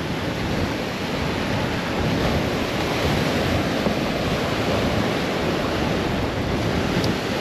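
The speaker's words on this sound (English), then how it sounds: "It's so windy, it makes your eyes water up." Strong wind and surf on a Lake Superior beach make a loud, steady roar of crashing waves and gusts buffeting the microphone, with no breaks throughout.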